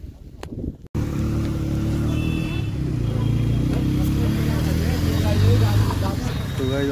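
Steady road traffic noise on a busy route during a carnival in Bhadraj, a continuous broad rumble of passing engines that sets in after a brief quieter moment, with talk over it.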